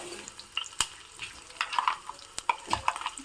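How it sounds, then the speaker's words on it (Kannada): Curry leaves and garlic crackle in hot oil as a tempering, with soft sizzling broken by scattered pops and the tap of a spoon stirring the pan. "ನೋಡಿ ಒಗ್ಗರಣೆ ಆಗ್ತಾ ಇದೆ ಕರಿಬೇವಿನ ಸೊಪ್ಪು ಹಾಕಿದ್ದೀನಿ ಒಂದು ಐದಾರು ಹೆಸಳು ಬೆಳ್ಳುಳ್ಳಿ"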